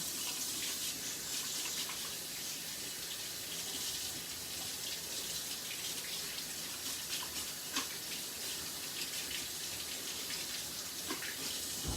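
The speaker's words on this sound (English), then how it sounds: "Let me wash my hands real quick" Hands are washed under a steadily running kitchen tap, a continuous close hiss of flowing water with small splashes and shifts, no talking.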